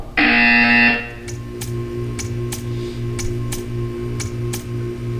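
In a Portal 2 test chamber, a loud electronic buzzer blares for under a second, followed by a steady rhythmic ticking with sharp clicks over a low mechanical hum.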